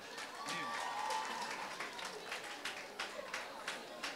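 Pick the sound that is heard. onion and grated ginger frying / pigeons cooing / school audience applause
school audience applause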